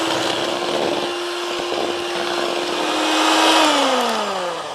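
An electric beater whips cold cream for a red velvet cake, its steady motor whine running close and loud throughout, then shifting and sliding lower in pitch near the end as the speed changes.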